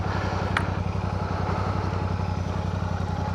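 A Royal Enfield Classic 650 motorcycle engine runs at a steady, loud, throbbing low idle as the bike comes to a stop, with a brief faint click partway through.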